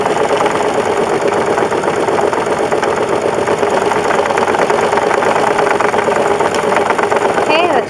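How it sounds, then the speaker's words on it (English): A sewing machine winding thread onto a bobbin, a steady fast whirring hum with a buzzing mechanical rattle, continuous and loud and close, ending abruptly. "you're just going to do this until your bobbin is full"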